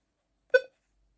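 A Minelab Equinox 800 metal detector gives a single short low tone, a brief harmonic beep standing alone in silence.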